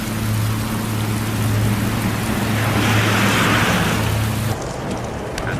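Steady rain hisses broadly over a low engine-like hum, continuous and fairly loud, then the hum drops away near the end leaving lighter rain.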